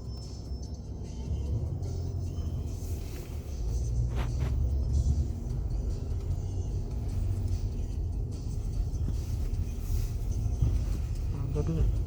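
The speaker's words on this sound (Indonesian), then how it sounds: "jadi biasanya dua mobil ini suka berjalan beriringan, yang satu ngangkat sampah, yang satu membersihkan jalan" A garbage truck and a street-cleaning vehicle drive slowly by together on a street in Montmartre, Paris, giving a steady low engine rumble that swells and stays close for several seconds with city noise around it.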